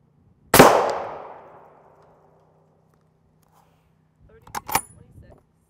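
An M14A1 armor-piercing incendiary rifle round strikes a body armor plate with one sharp, loud crack and a long ringing decay, followed by a couple of faint quicker clicks and pops a few seconds later.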